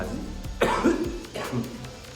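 Two rough, close coughs a moment apart, harsh and throaty, with a faint murmur of background noise.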